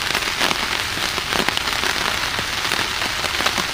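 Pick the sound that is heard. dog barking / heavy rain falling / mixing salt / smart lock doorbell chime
heavy rain falling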